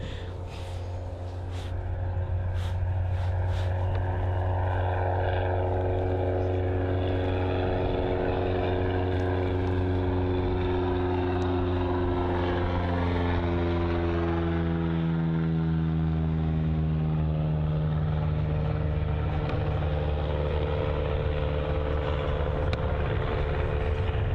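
A small propeller aircraft at Bristol Airport drones steadily, its engine tone building and then gradually sliding lower in pitch as it moves, with no talk.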